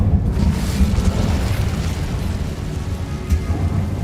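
The Incendio fire spell in Hogwarts Legacy goes off as a loud, steady roaring blast that rumbles heavily for about four seconds with no letup, and no one speaks.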